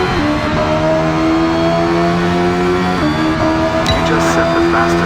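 Engine of a Brabham BT24 race car on the Jarama circuit in the Hot Lap Racing video game, a loud steady high-revving drone with a gear change midway, continuous and up close.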